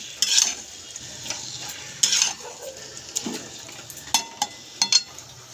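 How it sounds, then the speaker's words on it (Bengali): Meat fries in a pan with a soft, continuous sizzle, while a utensil stirs it with irregular scrapes and sharp metallic clinks against the pan. "দেওয়ার পরে ভালো করে নাড়বো, দেখেছো? মাংসটা করছি।"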